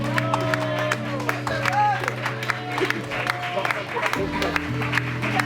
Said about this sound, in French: c'est Stéphane et Joël, qu'on va applaudir bien fort.